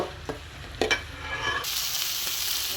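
Ginger garlic paste drops into hot oil with onions in a pan: a few soft stirring knocks, then a sudden bright sizzle that keeps hissing steadily up close, with no talk.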